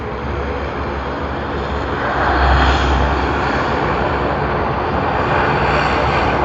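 A small aircraft at Sydney Airport sends out a steady, loud engine drone that swells a little midway and holds, with no voices.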